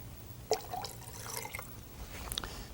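Water poured into a blender over yogurt for a rose water drink: a short burst of splashing and dripping liquid, close and moderately quiet, with a few brief clinks and trickles.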